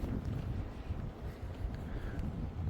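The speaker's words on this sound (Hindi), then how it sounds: "बहुत ठंडी हवा चल रही है।" Cold wind blows hard in the Zanskar mountains after rain, producing a steady, rough, close-up rumble of gusts buffeting the microphone.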